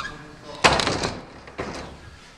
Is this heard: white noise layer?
no